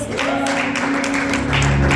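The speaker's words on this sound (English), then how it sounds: "Clap hands for Jesus." An audience in church claps hands together in a dense, continuous patter that holds loud and steady for the whole stretch, with a low sustained tone underneath.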